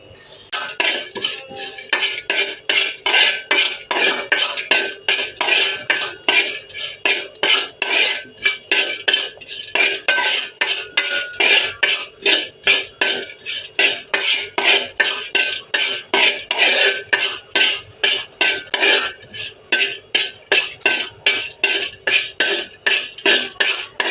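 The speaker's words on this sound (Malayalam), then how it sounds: "ഇനി ഇതൊന്ന് വറുത്തെടുക്കണം ഇതിൻ്റെ ഈ വെള്ളത്തിൻ്റെ അംശമെല്ലാം പോയി നല്ല ക്രിസ്പി ആയിട്ടൊന്ന് വറുത്തെടുക്കണം" Dried shrimp fried crisp in a pan, loud rhythmic scraping and clinking of a metal spatula against the pan, repeated steadily in quick strokes over a light sizzle.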